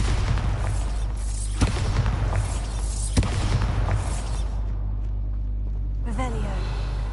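The Bombarda blasting spell in Hogwarts Legacy goes off as a heavy booming explosion over a deep rumbling game soundtrack, with sharp impact cracks and a brief whooshing tail.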